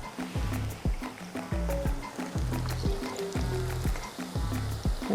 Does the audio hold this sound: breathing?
no